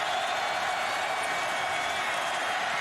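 Steady, distant roar of a stadium crowd cheering to rally the defense at a 2005 Georgia Tech vs Miami college football game, continuous broadband noise with no clear voices standing out.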